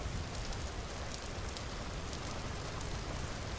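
Steady rainfall in the Vintage Story video game, a soft, continuous hiss of drops on surfaces, even in level and uninterrupted from start to finish.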